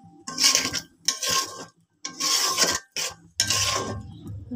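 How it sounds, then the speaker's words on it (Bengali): A spoon scrapes and clanks around a cooking pot of curry in a few distinct bursts separated by short pauses, metallic and close. "এবার আমি নেড়ে দিচ্ছি।"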